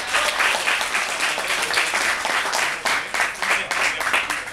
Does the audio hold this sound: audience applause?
yes